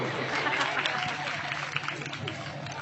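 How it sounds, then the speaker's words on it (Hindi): A crowd claps together in sustained, dense applause at a devotional naat singing gathering, steady and fairly loud throughout with no talking over it. "ताली बजा दो सभी लोग।"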